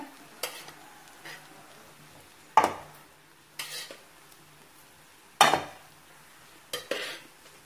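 Amla gooseberry rice seasoned with lemon juice is stirred in a pan, making about six distinct, close scraping and clattering strokes of a spoon against the pan, spaced a second or so apart over a quiet background.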